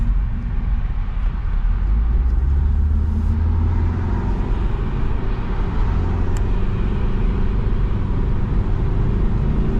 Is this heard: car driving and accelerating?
yes